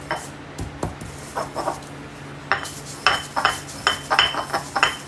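Dried herbs and spices, including thyme and fennel, being ground by hand for an Italian pasta sauce: irregular scraping, rubbing strokes with light clinks, sparse at first, then quicker and more rhythmic, close and fairly quiet with no talking.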